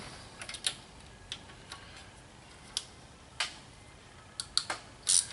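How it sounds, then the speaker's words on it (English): A 10mm bolt being unscrewed from the intake Vanos unit on a 2007 Mini Cooper S R56 during cylinder head removal: quiet, close, irregular ratchet clicks and small metallic ticks over faint background hiss. "It takes a 10mm bolt. It's got a bolt in it, so we'll go ahead and unscrew that bolt."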